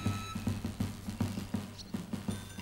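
Rhythmic horse hoofbeats clip-clopping at a steady walking pace during a historical wheat harvest reenactment, moderately close, with no talk over them.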